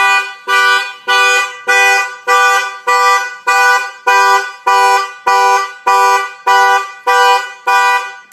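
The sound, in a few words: factory car alarm going off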